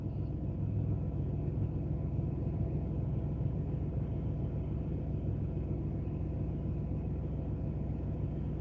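A car engine idling at about 900 RPM to warm up in cold weather holds a low, even rumble that stays steady and close, with no talking over it.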